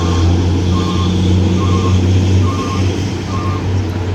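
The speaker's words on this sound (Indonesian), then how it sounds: "Ini adalah bus premium dari PO NPM dengan mesin 1836 dan bodi Skyliner HD dari Rahayu Santesa." A premium NPM bus with a 1836 engine and Skyliner HD body by Rahayu Santosa at a terminal, its reversing beeper chiming in a steady repeated pattern over a loud idling diesel drone, close by.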